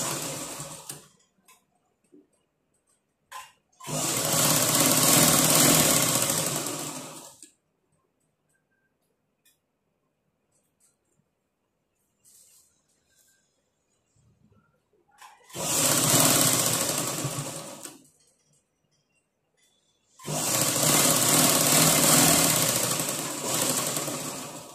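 A domestic sewing machine stitches a blouse in three separate bursts of steady mechanical whirring, each lasting a few seconds. Quiet gaps with small handling noises fall between the bursts, and no one speaks.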